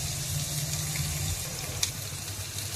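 Drumsticks are rinsed in water, giving a soft, steady running-water wash with faint splashes and one small knock, close by and without talk.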